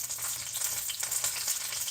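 Pork frying in a preheated pan at medium temperature, a steady, fairly quiet sizzle and crackle without talk.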